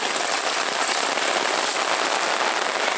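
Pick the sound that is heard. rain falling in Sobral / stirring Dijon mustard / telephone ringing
rain falling in Sobral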